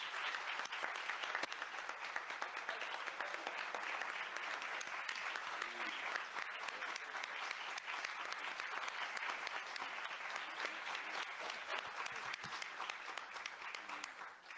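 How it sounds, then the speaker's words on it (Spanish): Audience applause honours Dr Rolando Tamayo y Salmorán on his 81st birthday at a round-table session on rule of law and legal positivism; dense, steady clapping fills the room without a break from start to finish. "le diéramos un gran aplauso al doctor Rolando Tamayo y Salmorán por sus 81 años"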